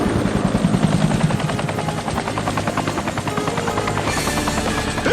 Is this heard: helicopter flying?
yes